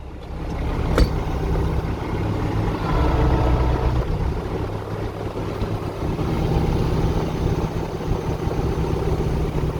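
Tractor engine running steadily during wheat sowing, a low droning hum with a brief sharp knock near the start and slight shifts in load, close and continuous with no talk.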